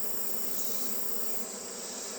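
Honey bees swarm inside an open hive box during mite treatment, making a dense, unbroken buzzing hum that holds steady at a moderate, close level.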